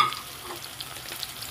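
Ginger-garlic paste and spices frying in a pan, a soft steady sizzle with faint stirring scrapes, close and fairly quiet, no voices.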